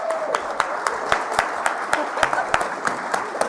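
An audience at a college funding announcement breaks into applause, a dense, steady run of clapping with sharp individual claps standing out, close and fairly loud.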